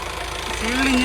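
A 2014/15 Honda Mobilio RS car engine idles with a steady, low mechanical hum close by, a faint rising whine entering near the end.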